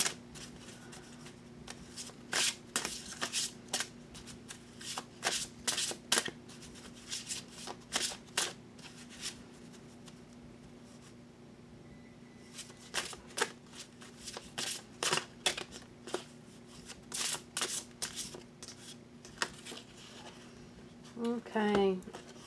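Tarot and oracle cards are shuffled by hand close up in quick, crisp bursts separated by short pauses, quiet but distinct, with a brief voice near the end.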